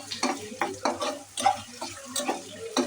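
Onions frying in oil in a pot for chicken haleem, with repeated stirring scrapes and splashy sizzle coming in short bursts, close up.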